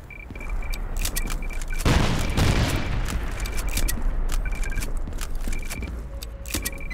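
In a video game battle, a grenade bursts in a loud broadband blast around two seconds in, surrounded by rapid sharp gunshot cracks and clattering impacts that continue throughout at close range.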